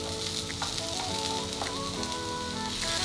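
Garlic sizzles steadily in a pan with translucent onions, a dense, continuous crackling hiss throughout with faint utensil ticks, close and fairly loud.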